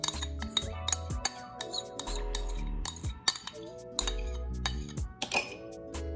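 A utensil stirs coconut oil and aloe vera together in a bowl, making rapid, irregular clinks and taps against the container, close and fairly quiet, with no voices.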